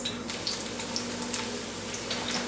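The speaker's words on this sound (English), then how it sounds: "Alright, get this sauteing." Chunks of onion sauté in a hot pan, giving a steady, soft sizzle with faint crackles throughout, close by and moderately quiet with no voices.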